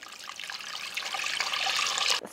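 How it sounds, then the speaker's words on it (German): Water poured steadily into a pot of broth with bay leaves, cloves and peppercorns, a continuous close splashing rush lasting about two seconds before stopping abruptly. "Gieße das Ganze mit Wasser auf."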